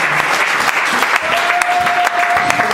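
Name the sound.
church congregation applauding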